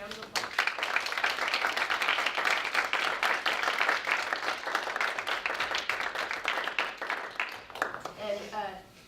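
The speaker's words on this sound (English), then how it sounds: "So let's give our panelists a round of applause." A chemistry panel discussion audience gives the panelists a sustained round of dense applause that runs for about eight seconds before fading, with a voice starting to speak at the end.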